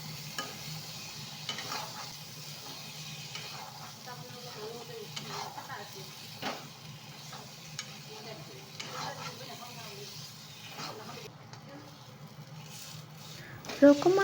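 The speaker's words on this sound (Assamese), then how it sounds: "এতিয়া আলুখিনি বহাই দিলোঁ আৰু কিছু সময় ভাজি থাকিম" Potatoes frying in oil with salt and turmeric, a soft steady sizzle with occasional stirring scrapes, moderately close, running under a quiet background throughout.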